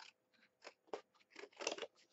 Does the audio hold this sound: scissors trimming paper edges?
yes